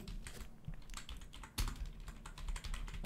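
Typing on a computer keyboard while filling in a name on a website form: rapid, uneven clicks of keys in quiet, close-up, with no talk.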